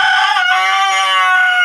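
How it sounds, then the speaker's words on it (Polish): A village rooster crows once at close range in a single loud, sustained call that rises and then holds, with no other sounds around it. "no kogut pieje"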